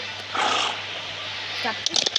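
A horse in the video game PUBG, a brief whinny-like call and movement over a steady game hum, followed by a short burst of sharper sounds near the end.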